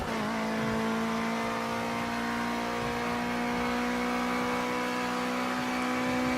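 A Ginetta G40 Junior race car engine in the Project Cars 2 driving game hums steadily under power, with a sustained droning tone that slowly climbs in pitch as the car accelerates, with no voices.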